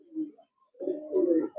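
Teddy pigeons in a cage giving two short, soft throaty coos separated by a brief pause, close by and fairly quiet.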